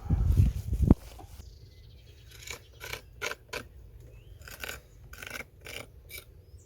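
A pear tree branch is worked on for grafting: a loud rustling handling burst, then a series of short, separate scraping and cutting strokes at close range, irregularly spaced, with no talking.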